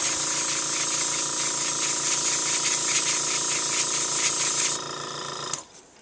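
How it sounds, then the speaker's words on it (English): A Copic airbrush sprays in a steady, close hiss, driven by a loud ABS 3 air compressor rattling and droning underneath, until the spray cuts off and the compressor's noise drops away at the end. "the air compressor, is quite loud"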